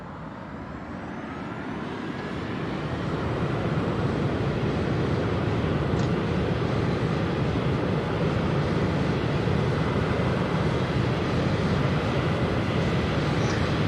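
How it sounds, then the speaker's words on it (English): A simulated airliner's takeoff roll in X-Plane 11 at TNCM, a steady engine roar and rumble that builds over the first few seconds and then holds loud and constant, with no talking. "Nice centerline takeoff roll."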